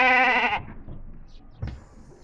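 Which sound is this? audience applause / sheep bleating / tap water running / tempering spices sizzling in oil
sheep bleating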